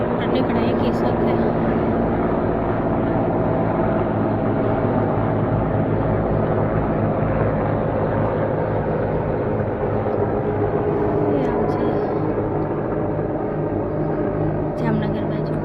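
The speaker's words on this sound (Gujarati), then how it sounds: "હેલિકોપ્ટર નીકળે એકી સાથે." Several helicopters pass overhead together outdoors, making a steady, broad rotor roar that fills the whole stretch without letup, with voices faint beneath it.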